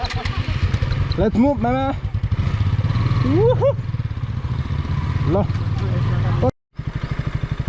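Motorcycle on a first-time helmet-mounted moto-vlog ride through the outskirts of Sikkim, its engine droning steadily up close with rising revs, while people talk over it throughout and the sound cuts out briefly near the end.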